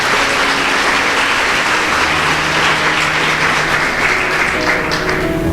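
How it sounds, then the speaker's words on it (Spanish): Church congregation applauding during a morning service, a loud full wash of many hands clapping continuously and close, with faint organ or keyboard tones sounding underneath. "Dele un aplauso a Él entonces esta mañana."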